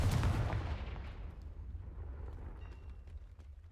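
Confringo fire spell blast in the Hogwarts Legacy video game: a heavy, loud boom at the start that fades into a rumbling tail over a few seconds.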